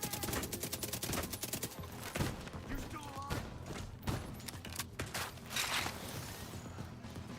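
Rapid SMG bursts in The Division 2 during heroic PvE combat, crackling volleys of automatic fire close up, broken by short pauses, heavier thuds and mechanical clatter, with muffled footsteps between.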